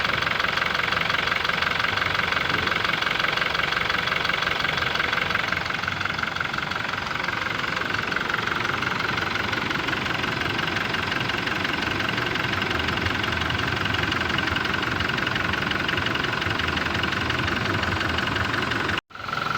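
A Toyota Hilux with the 2GD diesel engine idles with a noisy, knocking clatter, loud and steady up close for the whole stretch before cutting off abruptly near the end.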